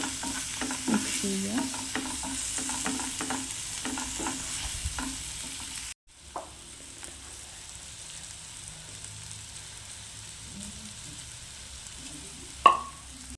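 Chopped tomato and masala for a prawn roast fry in a pan and are stirred with quick scraping strokes over a soft, steady sizzle. The stirring stops midway, then the quieter frying carries on and ends with one louder clank.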